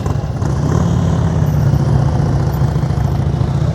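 Motorcycle engine running steadily at low speed during slow-speed riding skills practice, a continuous low rumble held on throttle throughout, fairly close and without talk.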